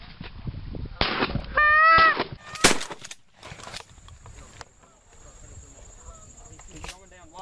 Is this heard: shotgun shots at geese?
yes